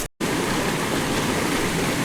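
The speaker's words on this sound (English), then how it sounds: "All right, I'm at the creek here." Year-round creek water rushing steadily after a brief cut at the start, a dense, close, continuous flow that fills the whole clip with no talk over it.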